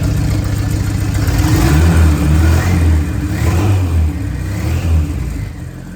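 A turbocharged DA9 Honda Integra engine runs loudly and continuously, rising and falling through a few revs with a rough, throaty drone and no voices.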